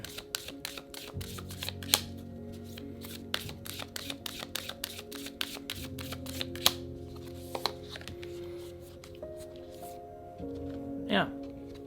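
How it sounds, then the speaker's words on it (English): A deck of oracle cards is shuffled close by with many rapid flutters and crisp snaps, broken by a few louder slaps, while a voice speaks over part of it. "Let's pull an oracle card for you."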